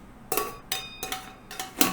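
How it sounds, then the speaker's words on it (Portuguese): A metal pot lid strikes four times at roughly even intervals, each hit a bright ringing clang that decays quickly, close and fairly loud, with no talking. "ou uma tampa de panela batendo, ou a Valdirene."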